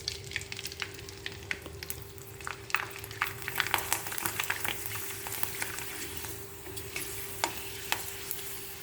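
Wheat semolina janthika frying in hot oil, a soft steady sizzle with scattered crackles and pops, fairly quiet and close, with occasional stirring scrapes.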